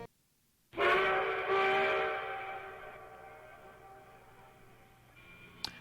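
A train whistle sounds within an instrumental post-rock track, a sustained harmonic tone that swells in abruptly, holds loud for a couple of seconds, then slowly fades under the music.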